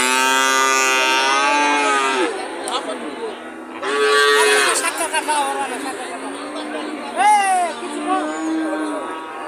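Cattle, including large Friesian bulls, moo repeatedly at a busy cattle market. The long, loud, close calls come one after another over a steady murmur of crowd chatter.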